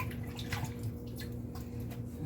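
Salt mackerel being washed in water, a quiet, steady wash of running and splashing water with a few soft drips, close by and without talk.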